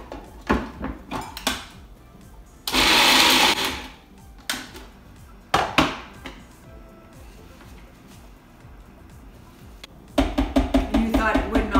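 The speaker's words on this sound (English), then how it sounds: "So we're gonna blend that." A food processor briefly whirs through basil pesto with Parmesan in one loud burst lasting about a second and a half. Scattered knocks and clatters from handling the bowl and lid come before and after it.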